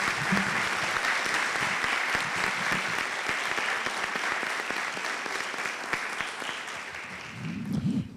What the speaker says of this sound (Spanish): Y un aplauso para el doctor, por favor.